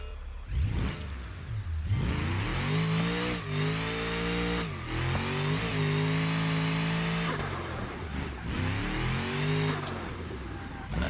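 A car races around a small track in BeamNG, its engine revving up and down through repeated accelerations and gear changes, loud and close with brief dips between throttle bursts.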